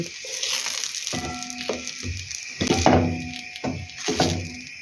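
Eggplant slices fry in hot oil in a pan, giving a steady close sizzle with scattered knocks and clatter from a utensil or the pan.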